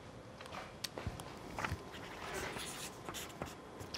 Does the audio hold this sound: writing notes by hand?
yes